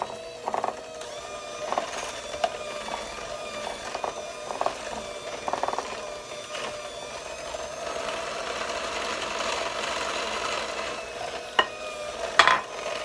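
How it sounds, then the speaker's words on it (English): Eggs being mixed one at a time into pineapple pound cake batter, likely with an electric mixer, give a steady faint whirring hum broken by light clinks and knocks against the bowl, with no one speaking. "I'm gonna go ahead and mix these up one egg at a time."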